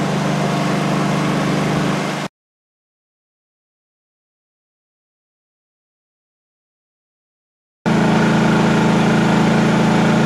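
A Honda eu2000i inverter-generator runs under a 1,600 watt load with a steady, loud mechanical drone, which cuts out into complete silence for about five seconds and then resumes at the same level.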